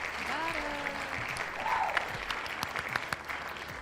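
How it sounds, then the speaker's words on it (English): Studio applause for Papa Smurf, steady dense clapping through the whole moment with a few louder claps near the end, while voices chatter over it. "Everybody, give a round of applause for Papa Smurf."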